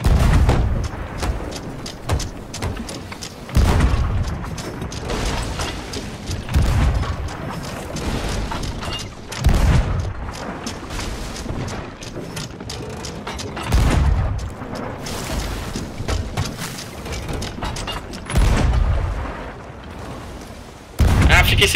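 Guns fire repeatedly during a pirate ship battle in Sea of Thieves, loud booming shots landing in irregular bursts every few seconds, mixed with players talking excitedly.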